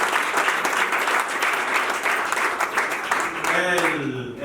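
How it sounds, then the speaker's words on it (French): Loud, steady applause from a seated crowd at a civil wedding ceremony, greeting the bride's older sister as she rises. Dense clapping runs throughout, with a voice emerging near the end. "Veuillez vous lever sous vos acclamations."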